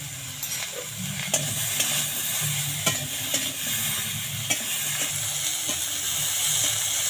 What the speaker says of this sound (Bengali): লবণটা দিয়ে খুব ভালো করে নাড়াচাড়া করে নেবো